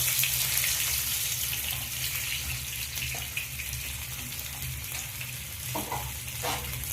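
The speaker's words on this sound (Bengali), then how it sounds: "মাছটা এবার আমি ভালো করে ভেজে নেব।" Fish coated in masala fries in a pan over medium heat, giving a loud, continuous sizzle with occasional soft stirring scrapes and no talking.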